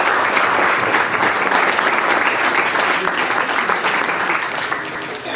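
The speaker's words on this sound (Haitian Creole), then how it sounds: "On va demander nous pour nous applaudir." Loud, dense applause from a seated audience at a professional orientation session, steady clapping filling the space before tapering slightly at the end.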